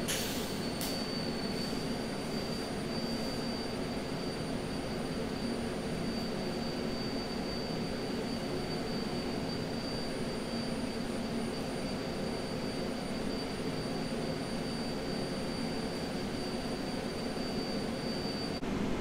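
A steady, high-pitched mechanical winding whine from a cordless drill runs continuously over a dense, even rumble, close and unbroken throughout, while working on a helical pile adapter.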